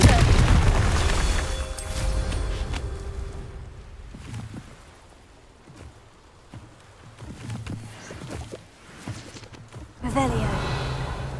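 Fiery Confringo spell blasts in the Hogwarts Legacy video game, with booming explosive bursts near the start and again at the end, heavy low rumble between, and quieter game ambience in the middle.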